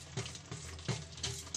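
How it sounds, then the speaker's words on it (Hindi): Paneer is stirred into a frying masala gravy for shahi paneer, with soft sizzling and a few rhythmic scraping stirs of the spoon in the pan, quiet and close. "अब हम इसमें डालेंगे पनीर।"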